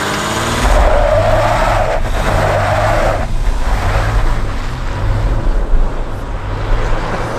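A two-wheel-drive 2020 Jeep Wrangler diesel launches hard down a drag strip with traction control off. Loud, continuous engine roar and spinning, squealing tires sustain for several seconds, close and dominant, with no talk.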